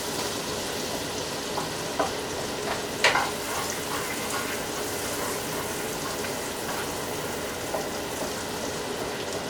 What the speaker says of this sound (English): butter and grapeseed oil. Okay, and I'm just going to stir this around for about 2 minutes or so.